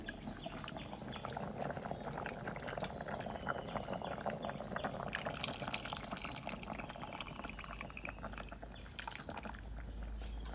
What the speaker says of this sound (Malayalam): അപ്പോൾ അതാ പുളി ഒഴിച്ചു കൊടുക്കുകയായി